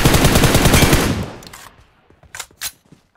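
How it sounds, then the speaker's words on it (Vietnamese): A video game machine gun fires a sustained, loud burst of rapid shots that cuts off after about a second and a half, followed by a few scattered distant shots. "Ôi, tiếng súng này."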